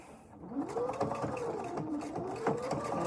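Sewing machine running steadily as it stitches a quilt seam allowance, with a continuous mechanical whir and rhythmic needle ticks up close, speed rising and easing through the run.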